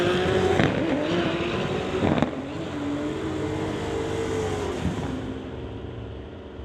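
A Volkswagen Golf and a BMW sit at the drag strip start line on a street-legal race night, engines droning and revving loudly together, with a brief rasp as one launches and the roar easing and fading away.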